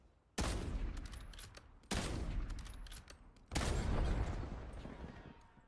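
Two grenade blasts in a video game burst out as loud booming explosions, followed by a third heavy blast, each one trailing into a long rumbling decay.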